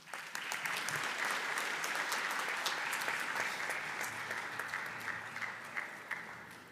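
A conference audience at a fraud awareness event claps for an honoured guest, sustained applause with sharp individual claps standing out, rising quickly then slowly tapering toward the end.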